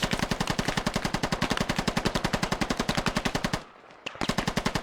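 Sustained automatic machine gun fire in the military shooter game Squad: a rapid, loud, steady burst of evenly spaced shots running over three seconds, a brief pause, then a couple more shots.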